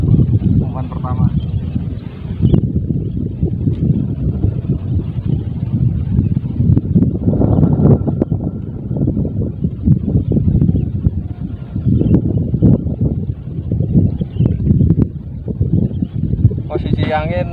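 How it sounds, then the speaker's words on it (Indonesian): Strong wind blows over a fishing lake, a heavy low rumble and steady buffeting of the microphone running throughout, with someone speaking intermittently over it. "Posisi angin sekarang sangat kencang, jadi airnya ombak-ombak."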